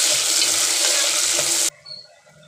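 Onions and tomatoes sautéing in a pan for bisibelebath give a loud, steady sizzle close by that cuts off abruptly partway through, leaving faint low clatter.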